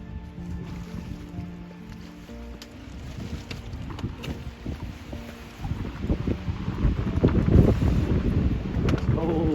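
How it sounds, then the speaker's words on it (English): Gusty wind blows across Ethan Pond on the Appalachian Trail in New Hampshire's White Mountains, a steady rushing roar that swells louder toward the end, with buffeting against the microphone. "A little windy."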